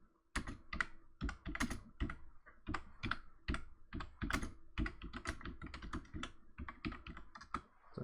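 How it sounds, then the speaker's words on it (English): Steady one-handed typing on a computer keyboard, a run of close, crisp key clicks in an uneven rhythm with short pauses, nobody talking. "So I'm typing with one hand here."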